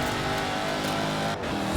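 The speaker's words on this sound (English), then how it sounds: "I do love that engine sound. And you can just about hear the supercharger." Bowler EXR S offroad supercar's supercharged engine droning steadily and loud up close, with a faint supercharger whine riding over the continuous engine note.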